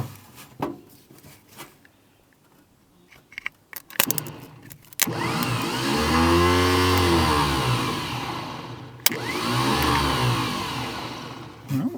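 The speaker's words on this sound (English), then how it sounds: "the starter spins over nice" A 1950 Buick Special starter motor spins over loudly after sitting for decades, a steady whirring crank running about seven seconds with a brief break, its Bendix not engaging, preceded by scattered clicks and handling noises.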